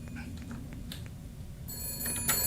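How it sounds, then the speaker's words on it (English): A phone rings in the detective video game Shadows of Doubt, a bright electronic trill that starts partway through over a low hum of ambient game noise. "Oh, my phone."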